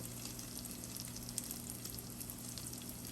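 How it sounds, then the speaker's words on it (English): Bread grilling in a pan under a heavy cast iron press gives a steady, close sizzle and fry hiss that holds at an even level throughout, with small crackles and no voices. "You want to put a heavy cast iron or a heavy pot over it just so it can get that pressure down to get those grill marks on that bread."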